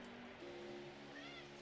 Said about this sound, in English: That is my cat.